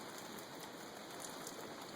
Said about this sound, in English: right now pretty light rain